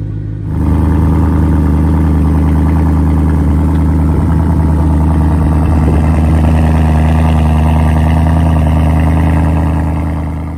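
A BMW M3 engine starts and settles into a loud, steady idle, a constant droning hum that holds evenly for about ten seconds with no one speaking.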